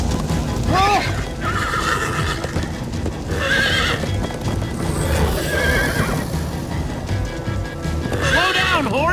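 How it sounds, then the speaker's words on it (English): A horse in the Minecraft: Story Mode video game gallops with rapid clip-clop hoofbeats and neighs loudly at the start and again at the end, mixed with game music and voices. "Slow down, horse!"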